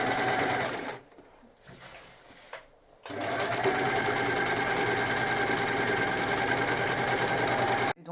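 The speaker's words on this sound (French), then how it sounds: "on continue à coudre tout doucement" Sewing machine slowly stitching bias binding onto a rounded edge, a steady close mechanical whir that pauses twice briefly early on, then runs continuously before stopping at the end.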